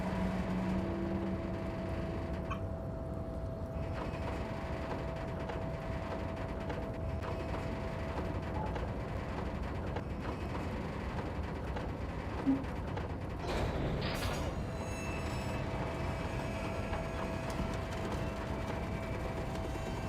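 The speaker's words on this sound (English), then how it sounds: "With a loud grind, the crane shifts overhead, moving a massive metal container through the air" A harbor crane in the Disco Elysium video game grinding and creaking overhead as it hauls a massive metal container, a long, steady mechanical drone with faint creaks and one sharp clank partway through, no voices.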